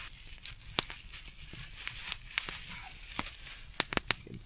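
A plastic bag, worn as a makeshift boot over a dry sock at a snowy winter camp, crinkles and crackles in short irregular bursts, close and fairly quiet.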